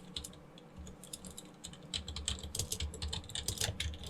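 Rapid typing on a computer keyboard as a command is entered at a terminal, with steady close-up key clicks in irregular bursts and no speech.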